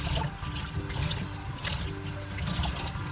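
Cold tap water runs steadily while mung beans are washed, a close continuous splashing and trickling stream at moderate volume.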